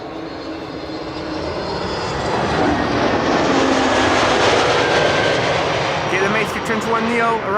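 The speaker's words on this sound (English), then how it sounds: "Cathay Pacific Cargo 7478 climbing out from center." A Cathay Pacific Cargo Boeing 747 climbs out from Schiphol's Kaagbaan runway, a loud, broad jet roar swelling to a peak and then holding, with a voice starting up near the end.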